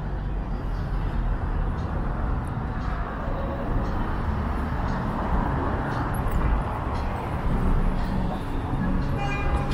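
Steady loud rumbling ambience inside Union Station in Toronto during a crowded pre-holiday rush hour, with train and rail noise blending into a dense wash of crowd and station sound throughout.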